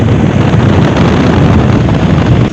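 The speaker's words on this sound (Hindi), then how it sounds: "हवा तो है" Wind buffets the microphone outdoors near Mughal Chowk, a loud, steady, unbroken roar that fills the whole moment with no pauses or other clear sounds.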